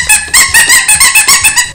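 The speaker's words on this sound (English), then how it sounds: "It squeaks!" A toy steering-wheel horn on a Little Tikes food truck squeaks repeatedly in quick succession, about eight loud, high-pitched squeezes close up with a bouncy rhythm.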